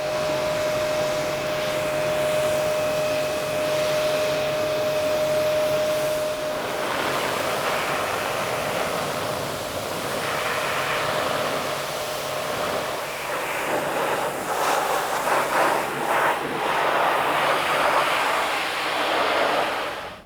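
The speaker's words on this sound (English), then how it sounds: "So now it's time just to gently rinse off the shampoo." Water spraying steadily as shampoo is gently rinsed off a caravan's body, a continuous hiss that grows rougher and more splashy in the second half, close and loud with no talking.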